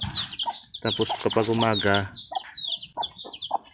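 A mother hen clucks close by among her chicks, with high chick peeps scattered through, while someone speaks over the birds at times.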